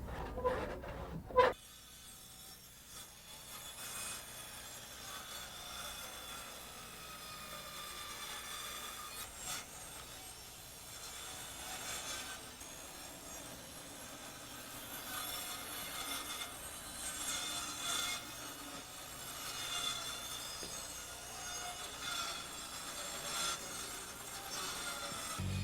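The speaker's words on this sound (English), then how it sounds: "Then JoAnne finishes the corner with a handsaw." A handsaw finishes cutting the corner of a wooden deck, giving a steady run of rasping back-and-forth strokes at moderate loudness with no talk over it.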